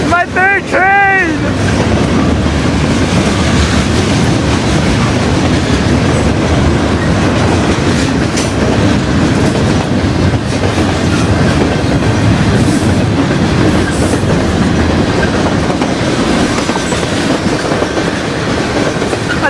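A CN freight train on the Halton subdivision rolls past with a loud, continuous rumble and rattle of cars. A brief horn blast comes at the start, and the roar stays steady and close throughout.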